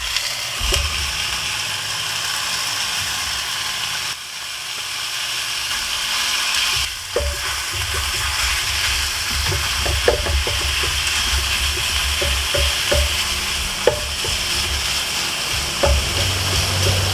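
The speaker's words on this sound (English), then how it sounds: "So we're going to go ahead and add in our ground beef" Ground beef frying in a pan with onions and peppers, a steady close sizzle throughout with occasional scraping and clinking from stirring.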